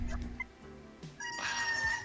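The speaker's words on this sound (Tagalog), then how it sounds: "May manok." A bird calls briefly amid some background noise, followed by a bright, higher-pitched squawking cry, near and moderately loud.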